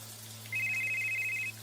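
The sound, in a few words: cell phone ringing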